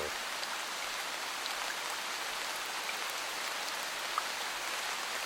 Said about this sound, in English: just in time for a torrential downpour.